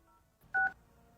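A single short DTMF dialing tone beeps from the Carphone app, a clean two-note tone over a faint quiet background.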